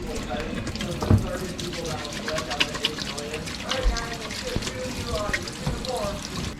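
Warm water runs steadily from a tap while spring rolls are prepared, a continuous splashing wash under people talking nearby, with a couple of brief clunks.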